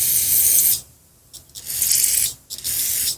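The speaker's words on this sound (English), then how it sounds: "Give it a good spray." Cleaner sprayed onto a Honda Harmony carburetor part in three loud, hissing aerosol bursts, the first about a second long and the next two longer, each separated by a brief pause.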